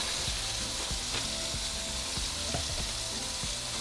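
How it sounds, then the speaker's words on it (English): A burger bun spread with mayo lightly toasts on a hot griddle, giving a loud, steady close-up sizzle with faint crackles and no talking. "I'm just going to spread some mayo on my bun, and then place it on the griddle. So we're just going to lightly toast it."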